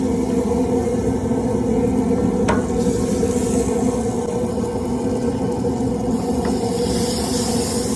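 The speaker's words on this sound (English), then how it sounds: "Once I get my butter on there, then I put my burgers on." Burgers sizzle in melted butter on a hot griddle, a steady close frying hiss that holds evenly for the whole stretch with only faint brief clicks on top.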